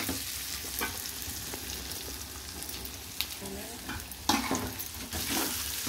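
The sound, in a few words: chicken pieces frying in oil with masala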